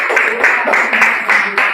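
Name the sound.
class applause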